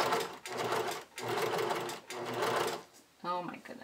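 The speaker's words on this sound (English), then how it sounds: "And straight stitch in place." A sewing machine straight-stitches snap tape onto a bodysuit garment in three loud, close bursts of rapid whirring stitching separated by short pauses, and a brief voice follows.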